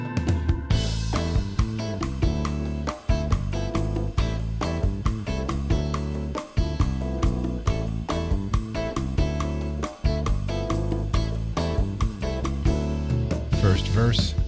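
A Latin jazz track plays steadily, with a sustained synth pad in the background, hi-hat in eighths and a dense rhythmic groove of piano and bass, full and continuous throughout.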